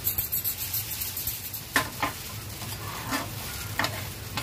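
Bread with onion fries in oil in a pan, giving a soft steady sizzle broken by several sharper spatula taps and scrapes, close and alone without talk.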